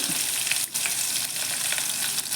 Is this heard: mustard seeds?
yes